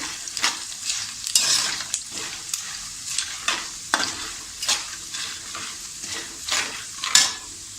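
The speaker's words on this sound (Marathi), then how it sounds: "खोबरं परतून घेऊया" Coriander seeds, fennel and small coconut pieces fry and get stirred in a pan, with a continuous sizzle broken by regular scraping strokes roughly every half second, close and clear with no talking.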